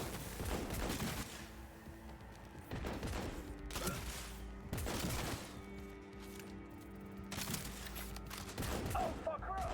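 Bursts of automatic gunfire in the video game Cyberpunk, several heavy volleys spaced a couple of seconds apart, loud and close amid game ambience, with shouted voices between.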